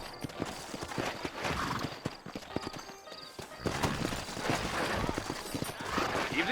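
Horse hooves clip-clopping at a gallop in the video game Red Dead Redemption, a steady, close rhythmic pounding that runs throughout with occasional whinnies and game ambience.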